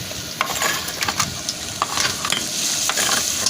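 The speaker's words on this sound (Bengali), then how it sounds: "ভালো করে নাড়াচাড়া হচ্ছে।" Curry fries in a pan over raised heat, a dense continuous sizzle with frequent scraping stirs of the spoon against the pan, close and loud throughout.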